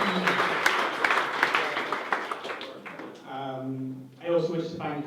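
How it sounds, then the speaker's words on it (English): Wedding guests clap at a reception after a thank-you in a speech, a dense burst of applause filling the room for about three seconds before fading as a voice resumes speaking. "I'm going to make you all clap for"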